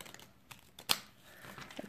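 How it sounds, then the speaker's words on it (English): Tarot cards are shuffled close by, giving soft riffling and light clicking with one sharper snap near the middle. The sound is fairly quiet and there is no talking. "I'm just shuffling right off to the side here."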